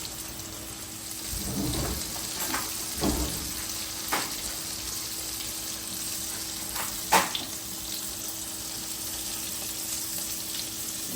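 Battered crappie fillets fry in hot oil with a close, steady sizzle, broken by a few louder crackles and pops and some soft stirring clatter.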